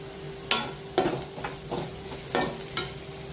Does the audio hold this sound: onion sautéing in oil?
yes